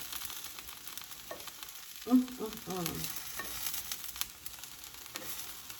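Vegetables sear and sizzle in a hot pan for an egg and veggie scramble, a steady close frying hiss with a few brief louder pops and crackles partway through.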